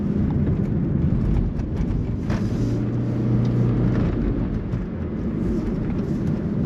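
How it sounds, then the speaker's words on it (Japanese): A 2009 third-generation Toyota Prius S hybrid's engine drones steadily under load climbing a mountain road, a continuous low hum with road noise, with no talking. "なかなか高揚感のあるエンジン音とともにぐんぐん上っていきます。"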